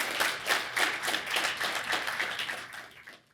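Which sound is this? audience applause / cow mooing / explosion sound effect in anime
audience applause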